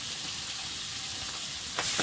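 Hilsa fish frying in a pan, giving a steady, fairly quiet sizzle throughout, with a short louder hissing swell near the end.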